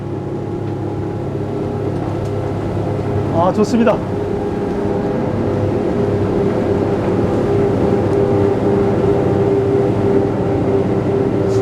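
Twin engines of a 33-foot Striper fishing boat drone steadily as it turns on the water, a continuous low rumble with wind and hull noise; someone speaks briefly over it.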